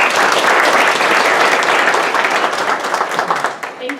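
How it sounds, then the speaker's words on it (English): An audience bursts into loud, dense applause for Jerry Monberry, sustained clapping that slowly thins out toward the end. "Please give a round of applause for Jerry Monberry."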